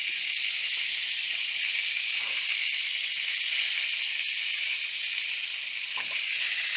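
Onions for bistek tagalog sizzle in a hot pan, a constant bright hiss with faint crackles and an occasional soft stir beneath it, close and even throughout, with no voices.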